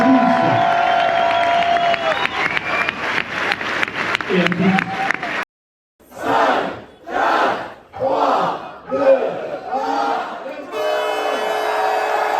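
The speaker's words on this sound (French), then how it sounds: "Vous pouvez vous applaudir." A crowd at the 4L Trophy 2025 rally cheers, shouts and claps loudly, the roar breaking off briefly before bursts of whooping voices return and sustained applause swells at the end.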